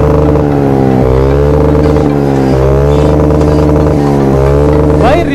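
A mini Kawasaki ZX10R superbike engine revs repeatedly, its pitch rising and falling in several surges, loud and close, with voices talking over it.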